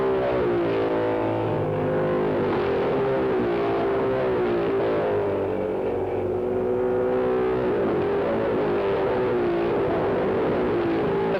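500cc racing cars at Mallory Park, a loud continuous engine drone with wavering pitch as the cars accelerate and run together, heard through distorted old recording with no speech.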